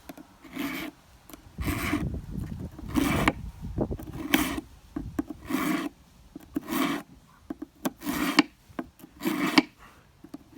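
Knife sharpener grinding against the edge of a 12-inch aluminum ruler, harsh rasping strokes in an uneven rhythm of about a dozen passes, close and fairly loud, with short pauses between.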